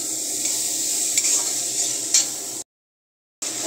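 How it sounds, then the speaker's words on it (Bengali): Ground spice paste with salt frying in a pan, with steady close sizzling, a few scraping stirs and light clinks, a brief silent gap, then the sizzle resumes. "লবণ দিয়ে ভেজে নিচ্ছি, দেখো।"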